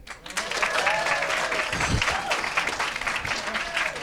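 A stand-up comedy show audience breaks into loud, sustained applause with clapping and cheering that carries on for several seconds.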